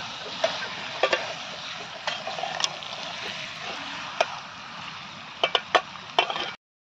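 Mutton seasoned with turmeric and salt stirs and fries in onion, a steady soft sizzle with scattered sharp clicks of a spoon against the pan.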